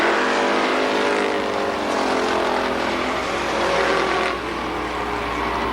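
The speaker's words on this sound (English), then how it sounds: "all the tire squeal you hear out there." Race cars circling a newly resurfaced speedway track on grippy tires, a loud continuous engine roar with high squealing tire tones layered through it, steady throughout with a slight dip near the end.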